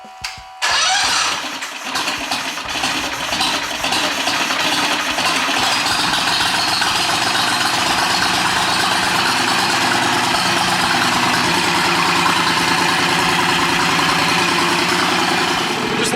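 An engine fitted with a Mikuni TM34 flat-slide carburetor cranks and catches after a brief pause, then settles into a loud, steady, close idle.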